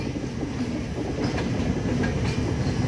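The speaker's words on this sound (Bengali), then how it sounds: "আর এদিকে ঢুকছে চারমিনার এক্সপ্রেস" The Charminar Express, running from Chennai Beach to Hyderabad, pulls into Vijayawada station with a continuous rumbling roll and rhythmic wheel clatter, moderately close and steady throughout.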